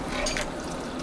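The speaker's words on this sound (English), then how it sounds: "you can hear the bowls and the spoons clinking in the background" Bowls and spoons clink faintly in a kitchen while deer chili is dished out, a few light metallic taps in the first half over a steady background hum.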